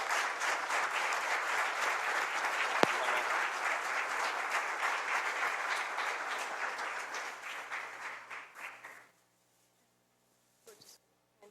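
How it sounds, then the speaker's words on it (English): Audience at a Rochester Board of Education business meeting applauding the Student Leadership Congress, a sustained round of clapping that fades out, followed by near silence with a few faint noises. "So another round of applause for Student Leadership Congress."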